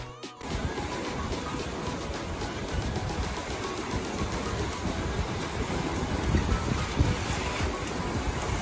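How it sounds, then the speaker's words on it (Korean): Strong ocean surf rushing and crashing continuously against the rocky coast of Jeju Island after rain, mixed with gusty wind noise, with no talking. "비가 개인 후라 그런지 바닷소리가 아주 힘차고 시원했어요."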